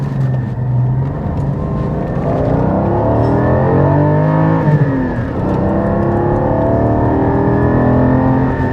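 A Porsche GT4 engine with sports exhaust revs hard through the gears, its exhaust rasping loudly with rising and falling pitch sweeps, close and continuous.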